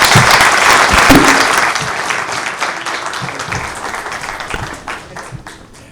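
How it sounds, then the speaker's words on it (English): Audience at a chamber of commerce event giving a round of applause, dense clapping that starts strong and gradually thins and fades out. "please join me in carrying a big round of applause to Preetam."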